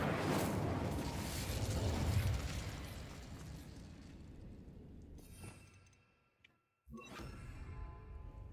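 The Incendio fire spell in the Hogwarts Legacy video game erupts in a roaring burst of flame that fades over several seconds, then a brief silence gives way to a second crackling blast.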